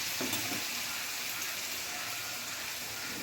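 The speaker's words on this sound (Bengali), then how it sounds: "এবার রসুনটাকে কাঁচা গন্ধ চলে যাওয়া পর্যন্ত ভেজে নিচ্ছি" Crushed garlic fries in hot oil, giving a soft, even sizzle that crackles faintly and continuously through the short stretch, with no one speaking.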